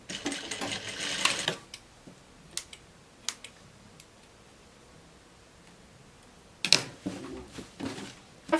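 A sewing machine stitches a seam on a dress in two short bursts of close, rapid whirring, with quiet pauses and light clicks of fabric handling between them.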